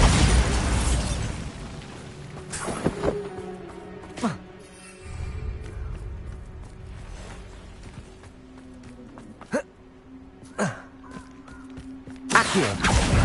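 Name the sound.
Bombarda blasting spell explosion, Hogwarts Legacy video game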